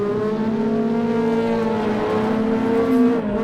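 Ferrari 360 mid-engine V8 in a racing simulator at the Nürburgring Nordschleife, a loud high revving wail with clear harmonics, pitch climbing and shifting through gears, close and alone.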